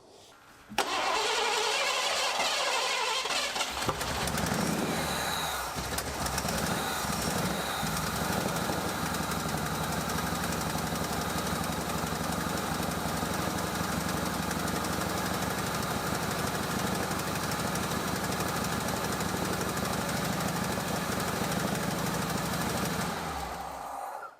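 A 1986 Ford F150 fuel-injected engine with its EGR valve connector unplugged cranks, starts and runs steadily, a loud, close, uneven mechanical roar that continues alone for over twenty seconds before cutting off.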